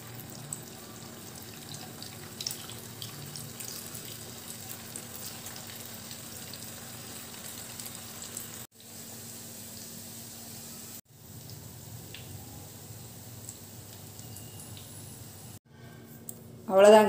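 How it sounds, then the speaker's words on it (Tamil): Maggi noodle balls deep frying in hot oil in a kadai, a soft, steady bubbling hiss that continues at low level with brief breaks. "இப்போ இதை டீப் ஃப்ரை பண்ணி எடுக்க வேண்டியதான்"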